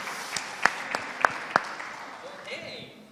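Audience applause at a tech summit stage event, a few sharp claps over a soft crowd patter, fading out after a couple of seconds.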